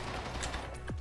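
Gunfire in the video game Call of Duty: a dense, rapid burst of automatic shots blurring into a continuous rattle, loud and brief.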